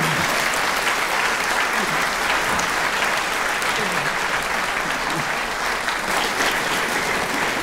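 A studio audience claps warmly and steadily to welcome actress Carmen-Maja Antoni, a dense, even wash of applause filling the room throughout without letup.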